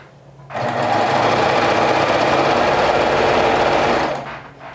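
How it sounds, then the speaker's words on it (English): A serger sewing machine runs a hem on overalls in one continuous, loud, close whirring burst of about three and a half seconds, starting and stopping abruptly. "going to run this hem through my serger"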